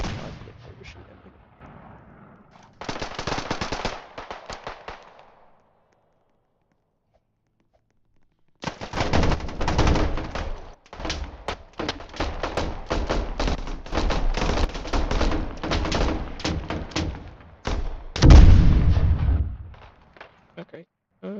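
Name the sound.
gunfire shooting in a video game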